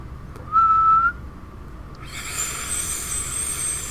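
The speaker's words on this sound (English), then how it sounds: "I still can't whistle." A single sustained whistled tone, thin and steady for about half a second, followed by a brighter airy hiss with faint high tones.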